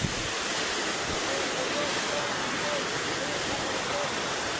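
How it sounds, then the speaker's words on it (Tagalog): Typhoon wind roars steadily alongside rushing floodwater near a damaged dam, a dense, constant wash of noise with no breaks, loud and close to the microphone. "Ang bagyo."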